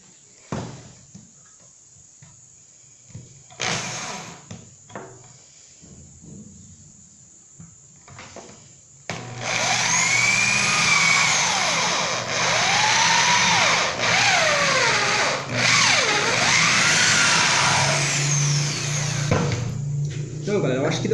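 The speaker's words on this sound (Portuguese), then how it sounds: "Vou estar furando aqui desse lado aqui." Power drill boring into wood for a handmade miniature wooden truck, a steady loud whine with rising and falling pitch sweeps lasting about twelve seconds after quieter handling noises and brief speech.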